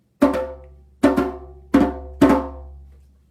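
Four resonant strikes on a properly tensioned djembe, with deep, ringing bass tones and a bright slap on top, spaced evenly and clearly audible, each decaying smoothly.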